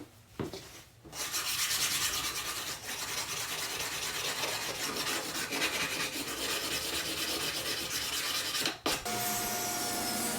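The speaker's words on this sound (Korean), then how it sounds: "사포로 샌딩을 합니다." Sandpaper is rubbed back and forth over a wooden Christmas tree corner shelf in steady, continuous strokes, close and even, with a short pause near the start and another near the end.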